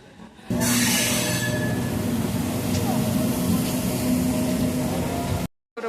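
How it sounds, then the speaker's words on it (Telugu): A crowded festival-season passenger train rushes past close by with a loud, sustained roar and rumble that starts abruptly and cuts off near the end. "వస్తా ఉంది ట్రైన్ అయితే, మేమక్కే ట్రైన్ వస్తూ ఉంది"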